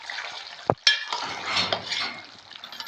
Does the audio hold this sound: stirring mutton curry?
yes